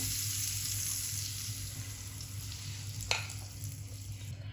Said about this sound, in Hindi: अब ये मैं ऊपर डाल दूंगी अंडा, जो हमने चीज़ें सारी मिक्स की है ना